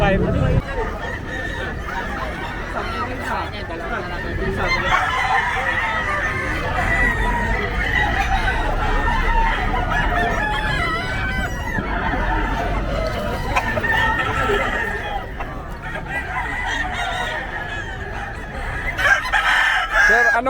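Fighting cocks crow and cluck throughout a busy poultry market in Bocaue, with several birds calling near and far. Steady crowd chatter and voices talking run underneath.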